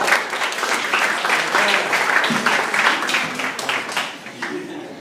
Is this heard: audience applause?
yes